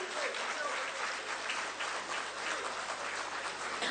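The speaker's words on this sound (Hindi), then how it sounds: "जोरदार तालियां होनी चाहिए।" An audience bursts into loud, continuous applause at a Tata hotel MoU ceremony in Ranchi attended by the Chief Minister, a thick and even wash of clapping that holds steady throughout.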